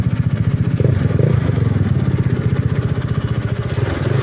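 A motorcycle fitted with a pipe silencer runs close up with a continuous, rapid pulsing engine note that swells slightly in a brief rev and then settles.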